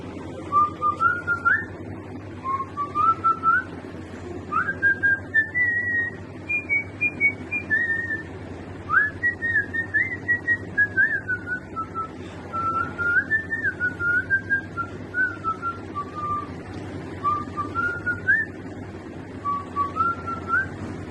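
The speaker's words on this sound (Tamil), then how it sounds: "விசில் அடிக்கிறேன்." A man whistles a song tune as a clear, sustained melody of gliding phrases with short pauses, close and alone over faint room noise.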